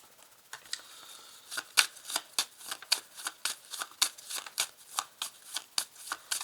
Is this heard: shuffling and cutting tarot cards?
yes